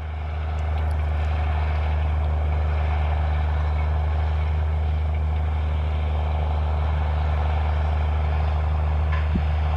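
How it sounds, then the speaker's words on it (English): A steady, low tractor engine drone runs throughout on a farm near Joplin, Montana, a heavy motor idling or chugging at a constant pitch with faint background noise above it. "Hopefully you can hear the sound of his tractor."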